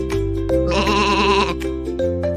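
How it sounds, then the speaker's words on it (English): A sheep bleats once in a long, wavering baa lasting about a second, close and clear, with a steady background hum. "Can you go baa like a sheep, Baba?"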